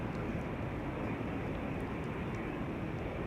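An EasyJet Airbus A319 departing Amsterdam Schiphol Airport gives a steady broadband jet roar, dense and even throughout with no voices.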